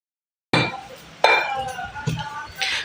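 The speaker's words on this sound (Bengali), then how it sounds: "তো এবার হামানদিস্তার সাহায্যে রসুন পাতাগুলোকে ভালোভাবে থেতো করব।" Garlic leaves, with some garlic, pounded in a metal mortar and pestle for pickle: a few sharp clinking strikes with ringing metallic tails, close and fairly loud.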